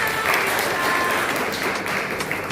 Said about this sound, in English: Round of applause for Chico.